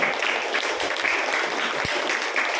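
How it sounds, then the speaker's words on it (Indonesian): At a school arts show and farewell ceremony, an audience applauds the MCs, a continuous dense clapping that stays loud and even throughout with crowd hubbub mixed in. "Tepuk tangan untuk MC."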